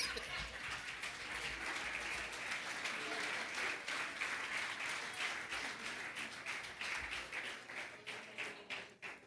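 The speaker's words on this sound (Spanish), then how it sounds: "Denle un aplauso." A church congregation claps for several seconds during a sermon, dense steady applause filling the room and tapering slightly toward the end, with a few voices mixed in.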